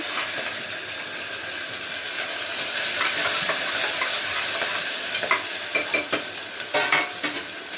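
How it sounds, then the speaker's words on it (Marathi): Onion, tomato and curry leaves sauté in a pan, a loud steady hiss of frying with spatula stirring, and sharper scraping clicks toward the end and no talking. "त्याच्यामध्ये कढीपत्ता टाकलाय. कांदा टमाटा चांगला परतून घेते यामध्ये."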